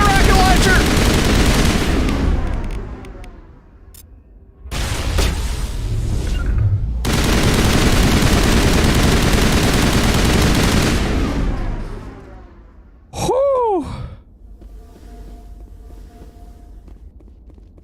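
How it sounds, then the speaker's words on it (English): Loud, dense gunfire from Mass Effect Legendary Edition fills the scene in sustained bursts broken by brief pauses, followed by a whooshing blast and quieter ambience near the end. "the guns are a little too loud there, Vico?"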